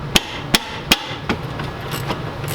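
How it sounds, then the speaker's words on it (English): Hammer pounding a seized brake caliper loose, three sharp metallic blows at a steady pace, then a few softer knocks that fade out, close and loud with no talking. "Kind of like giving it a pound there if it's seized up."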